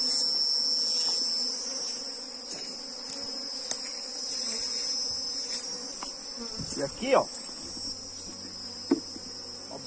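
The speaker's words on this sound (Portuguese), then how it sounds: "observem que já tem bastante abelhas" Honeybees buzz steadily around a beehive box, a dense continuous hum of many foragers up close, with a brief spoken phrase and some handling noise partway through.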